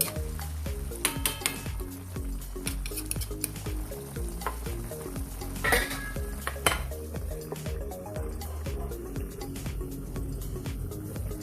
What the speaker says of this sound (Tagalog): Tapos, haluin-haluin lang natin to guys. At atin uli itong takpan.